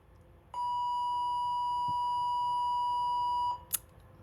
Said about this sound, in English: Sorry, tardy bell.